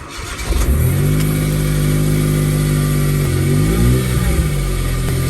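A Smart Roadster engine cranks, catches and settles into a steady close idle with a small rev near the end, heard alone.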